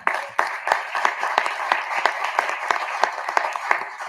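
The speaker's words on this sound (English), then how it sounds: "Please give him an applause." Press conference audience applauding a panel introduction, a modest round of scattered claps with distinct individual hand strikes over several seconds, fairly close and moderately loud.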